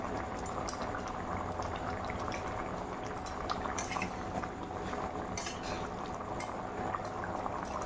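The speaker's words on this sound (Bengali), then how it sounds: "দেখো ঝোলটা অনেকটা ফুটে গেছে" A pot of chicken curry gravy seasoned with garam masala bubbles at a steady boil, close and continuous, with faint clinks of utensils against the pot now and then.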